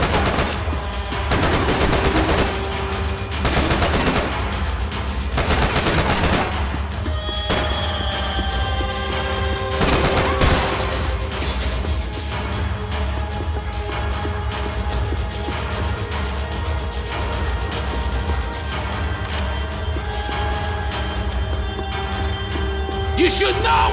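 Gunfire in the Max Payne 3 video game brings down loose ceiling tiles, with bursts of shots and crashing debris over a steady rumbling game background, several dense clusters early on and thinner tonal game sounds later.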